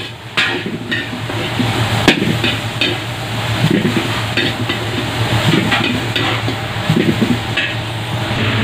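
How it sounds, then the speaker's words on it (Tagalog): Bitter melon (ampalaya) sautéing with beef and onion leeks in a pan, a steady close sizzle broken by repeated sharp clacks of a utensil stirring and scraping against the cookware. "gisa natin ng maayos yung ampalaya natin"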